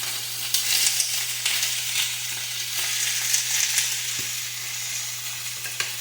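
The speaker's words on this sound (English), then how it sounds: "And what you do is you stir fry this steak up." Steak being stir fried in a pan for teriyaki steak, a steady close hiss and crackle of sizzling with occasional scraping taps of stirring, no talking.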